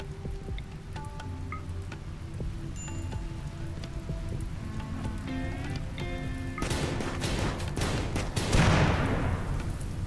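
Rain falling in the colony sim RimWorld, a steady hiss of drops that swells louder toward the end, mixed with tonal game music and a few sharp bangs.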